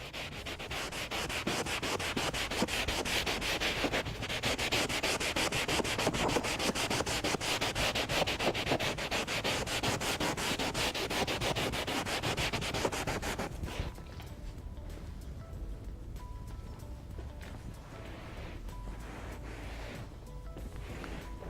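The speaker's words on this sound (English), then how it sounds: "Rub some of the leather colourant off." Cloth rubs steadily and briskly on leather to lift colourant off with leather prep, a close, continuous scrubbing that softens and thins out for the last third.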